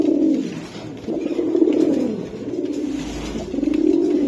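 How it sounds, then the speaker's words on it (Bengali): Pigeons in a loft with Bagha Silver birds, giving repeated soft, low throaty coos in rolling bursts, close and steady, with no talking. "কবুতর আমি দেখাই দিলাম।"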